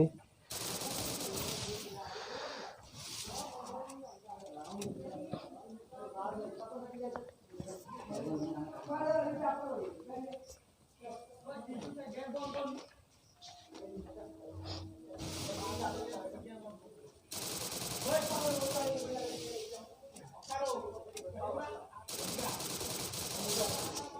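Bursts of rapid gunfire from a shooter video game crackle through the mix, some dense and loud, others scattered, while people talk excitedly over the action.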